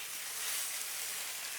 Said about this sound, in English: Man, I love to hear that sizzle.